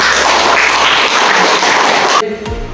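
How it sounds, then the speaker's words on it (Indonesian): Students in a classroom applaud, a loud, dense clatter of many hands that cuts off abruptly just before the end. "tepuk tangan untuk semuanya"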